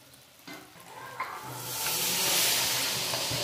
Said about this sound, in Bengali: আবার আমি কষাচ্ছি আরো বেশ কিছুক্ষণ এইভাবে কষিয়ে নেবো